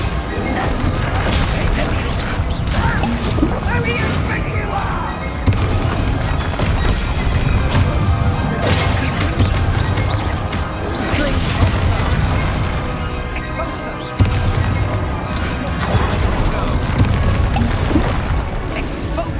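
Bombarda spell explosions in the video game Hogwarts Legacy erupt as loud, repeated booms and crashing impacts with splintering debris. The blasts sound throughout a chaotic, dense fight, and occasional voices call out amid the noise.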